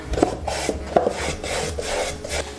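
Finish being rubbed by hand along the wood grain of small assembled wooden crates, a steady rasping scrub with repeated strokes at close range and no talking.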